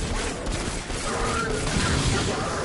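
Video game gunfire, a dense burst of rapid shots that keeps going without a break through the short stretch, loud and close.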